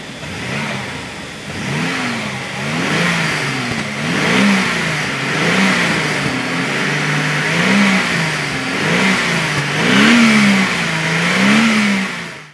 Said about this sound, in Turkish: Homur homur V8 gürültüsünü, homurtusunu yine burada da hissediyoruz.